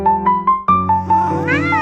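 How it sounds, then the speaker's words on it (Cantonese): A cat meows repeatedly at night, giving a rapid series of loud, close, insistent cries that stretch into a longer wavering yowl at the end. "半夜喵叫。"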